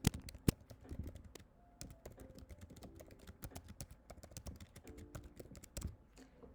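Computer keyboard typing while writing JavaScript code, a brisk irregular run of close, light key clicks and taps with a couple of louder strikes, no speech.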